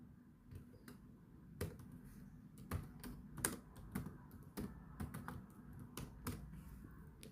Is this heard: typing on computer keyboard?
yes